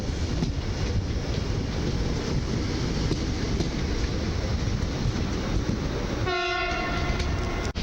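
An EN57 electric multiple unit passes at night near Warszawa Zachodnia, a continuous loud close roar of wheels and rushing air, with a brief horn blast near the end.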